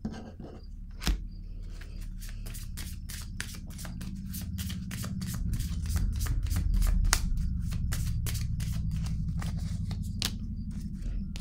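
Tarot cards being shuffled by hand, a sharp snap and then a long fast run of crisp riffling flicks, close and clear, building slightly louder midway before easing off.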